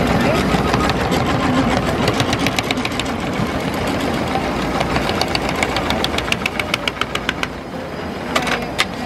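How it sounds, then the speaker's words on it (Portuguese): A programmable industrial sewing machine stitching shoe upper material runs with a loud, fast mechanical clatter and rapid needle ticks that speed and slow in bursts, close by. "Não, isso é uma máquina de costura programada."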